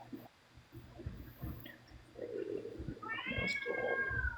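A cat meows loudly and close by in one drawn-out, rising yowl near the end, after soft rumbling and shuffling sounds.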